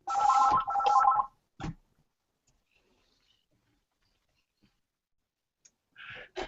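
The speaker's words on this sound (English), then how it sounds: "don't know how to stop the phone." A telephone rings in two short electronic bursts, loud and close, followed by a click and a long quiet stretch, then another short ring at the end.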